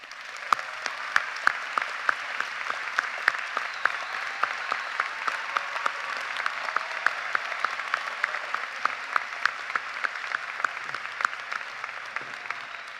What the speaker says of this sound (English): Students, let's give them a round of applause.